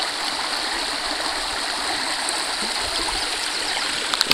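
A brook at a trout fishing spot rushes and burbles steadily, a close, continuous wash of flowing water with no voices over it.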